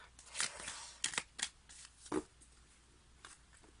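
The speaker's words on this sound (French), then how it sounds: "J'ai envie de rajouter une petite carte." Tarot cards drawn from a deck and laid down on a table, a handful of soft papery slides and taps spaced irregularly, close and quiet, with no talk.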